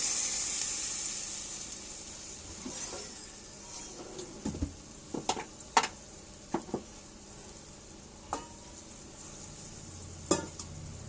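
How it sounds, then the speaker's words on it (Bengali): Curry frying in a pan with water poured in, a soft continuous sizzle under a series of sharp metallic clinks of a utensil against the pan, spaced irregularly, fairly close, no talking. "তরকারিতে জল দিয়ে দিই,"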